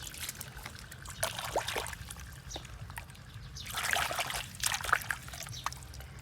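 Water trickles and dribbles in small splashing bursts while mini toy vehicles are cleaned in sand, faint and intermittent, swelling louder toward the end.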